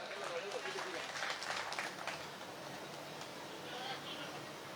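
Audience clapping at a Hindi kavi sammelan poetry recital, a steady patter of many hands filling the hall, with voices mixed into the noise.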